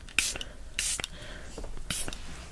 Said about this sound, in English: we're just gonna go in with this setting spray